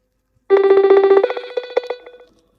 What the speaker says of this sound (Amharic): እየጠራ ነው ግን እያነሳልኝ አይደለም።